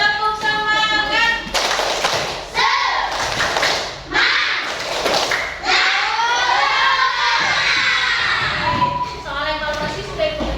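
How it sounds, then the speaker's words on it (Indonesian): Classroom of third-grade primary schoolchildren doing the tepuk semangat clapping chant, with loud rhythmic group claps and thumps mixed with children's shouted chanting voices, continuous and close throughout. "Oke, kita tepuk semangat dulu. Tepuk semangat."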